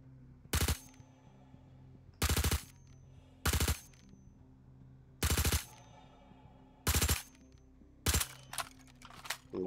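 Bursts of gunfire from a P4-AR rifle in Star Citizen, set to burst mode: six sharp, loud volleys of rapid shots spaced a second or two apart over a low ambient hum, with no talk.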